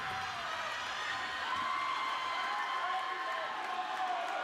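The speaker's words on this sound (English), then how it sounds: "The crowd is going crazy" A crowd cheers and shouts during a high school girls' swim meet race, a dense, sustained roar of voices and whoops echoing through an indoor pool hall, loud and constant throughout.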